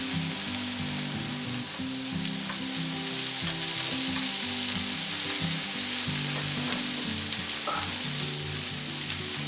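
White and red onions, red and yellow bell peppers and snap peas frying together in a pan for a quiche, giving a loud, dense, continuous sizzle up close with faint clinks and shuffles throughout.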